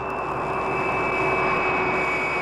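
Airplane engine with a fire aboard, staged in a live television drama scene: a steady, loud whining drone with a sustained high tone holds throughout, no voices over it.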